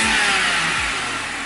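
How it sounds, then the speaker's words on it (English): A car engine with a B58 intake, warm from idling, revs hard twice in quick succession, each blip a deep rising roar that drops away, loud and close with a strong intake whoosh. "so let's give her a nice little rev"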